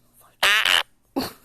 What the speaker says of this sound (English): That was like fart 59 with some extra.